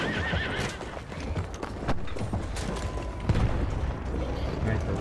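Hoofbeats pound in a fast gallop, with a horse whinnying amid a busy Battlefield 1 game soundscape of thuds and effects, dense and close.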